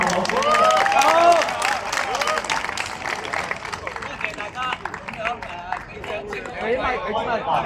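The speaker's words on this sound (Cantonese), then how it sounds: "俾啲掌聲" Audience applause at a Mid-Autumn party at a Hong Kong nautical school, a burst of clapping from a sizeable indoor crowd mixed with chatter and voices, slowly thinning out.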